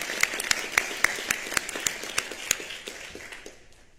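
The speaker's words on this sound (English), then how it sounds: "let us give a round of applause to Officer Browning" Audience applause honoring Officer Browning at a meeting, a modest group clapping with distinct individual claps that thin out and fade over a few seconds.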